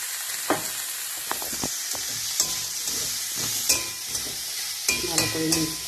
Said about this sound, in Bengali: ভালো করে মিক্স করে একটুখানি ভেজে দিই